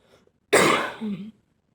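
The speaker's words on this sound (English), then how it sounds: "Excuse my coughing." A person coughs and clears their throat while sketching a chicken line drawing, one loud rasping burst followed by a shorter, lower throat-clearing rumble, close and otherwise quiet.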